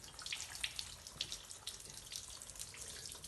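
Water runs steadily while rinsing a ceramic-coated car, a faint, even hiss of flowing water with small splashy bursts throughout and no voices.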